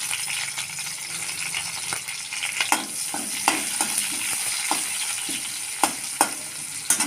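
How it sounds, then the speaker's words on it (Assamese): Sliced onion sizzles in mustard oil in a wok while a fish curry with tomatoes is being cooked; a steady close frying hiss is broken by occasional clinks of stirring. "মই সেই একেখিনি মিঠাতেলতে পিঁয়াজ এফাল কাটি পিনি দি দিছোঁ।"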